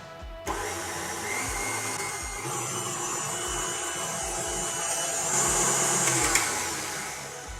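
An electric mixer beats lemon cake batter, giving a steady motor whir that runs for several seconds, loud and close, with a brief rattle near the start and no talking.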